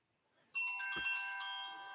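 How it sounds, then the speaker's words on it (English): A phone rings with an incoming call, its bright electronic ringtone starting abruptly and playing a repeating melodic pattern, fairly close and alone. "Oh, I have a phone call."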